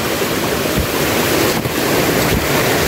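Rushing river water, a stream strong enough to wash away a mountain path, roars in a steady, loud, unbroken wash that holds for the whole stretch, with no voices.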